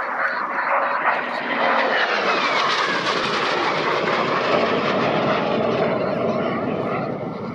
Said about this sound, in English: Such a glorious airplane, and so good to have a jet fighter on the airfield